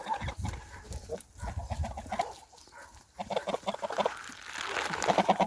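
Tula fighting geese, a straight-beaked breed, honk and cackle close by in a farmyard. The calls are irregular and come in bursts over rustling and shuffling.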